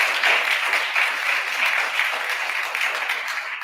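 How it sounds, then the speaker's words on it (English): Sustained audience applause at a school inauguration ceremony, even and continuous dense clapping from a large crowd, heard alone. "So let's give all of them a round of applause."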